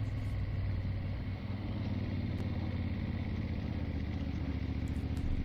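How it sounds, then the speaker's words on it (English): Motorcycle engine with a heavy flywheel chugging from just above idle back up through the revs, a steady low, throbbing rumble close by on a forest bush road, with no talk. "then gently power on, the bike chugging back up the revs as that massive flywheel maintains momentum"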